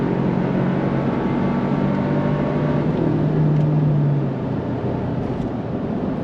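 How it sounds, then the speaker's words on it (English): A 2025 Toyota 4Runner TRD Pro pulls hard under throttle, its engine drone loud and steady from inside the cabin as the 8-speed automatic shifts smoothly and the pitch settles after each change. "On throttle, here we go. Smooth shifts from the 8-speed."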